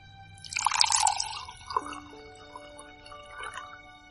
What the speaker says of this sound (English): how awkward is the pouring noise? It goes on for so long.